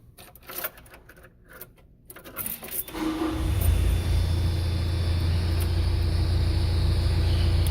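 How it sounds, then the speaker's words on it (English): A Caterpillar 307C excavator engine cranks with clicking and rattling, then catches and settles into a loud, steady diesel idle that holds to the end, with no talking. "I'm going to start the engine just at idle for a few seconds."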